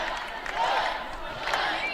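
Volleyball crowd at an NCAA match between Western Washington and Cal Poly Pomona, a short sustained collective yell of many voices, moderately loud and filling the hall.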